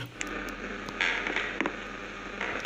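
Door slowly creaking open in the horror video game Paranormica, a sustained creak with a few clicks and knocks over a steady low hum.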